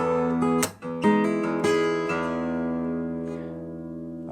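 Acoustic guitar bass string struck several times, each hit ringing out with sustained harmonics and fading slowly, close and clear with no talking.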